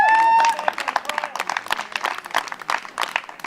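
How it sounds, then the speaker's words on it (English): Audience applause at a community gathering on chemical exposure, a dense wash of clapping that follows a brief tone at the start and continues steadily, moderately loud and close. "Let's hear a round of applause for that idea."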